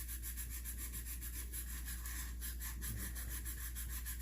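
Steady rubbing rasp of sandpaper scoured against the scored cylinder of a Stihl 026 chainsaw, continuous and close, with quick back-and-forth strokes and no talking.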